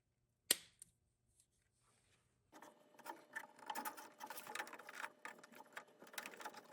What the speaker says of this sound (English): Let's see if we can feed this wire through.